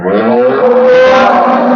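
A six-tooth Holstein Friesian dairy cow giving one long, loud, close moo that rises slightly and holds steady for nearly two seconds.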